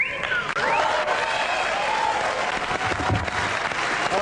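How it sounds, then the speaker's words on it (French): Audience applause for magician Bernard Bilis, a dense continuous wash of clapping from a crowd that holds steady throughout, with a faint voice heard above it. "applaudissements pour Bernard Milis"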